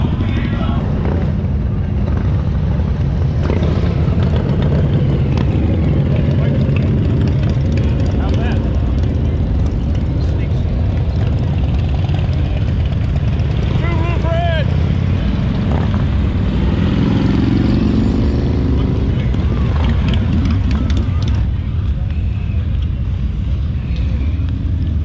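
Motorcycles pass at Daytona Bike Week on a busy road, a loud continuous engine roar that swells and fades as bikes go by close, with crowd noise and voices underneath.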